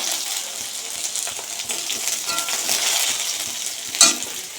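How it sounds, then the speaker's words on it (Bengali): Pointed gourd frying in oil in a home kitchen pan, a continuous soft sizzle with occasional stirring scrapes and a brief sharp clink near the end, no talking. "পটলটা ভেজে নিচ্ছি"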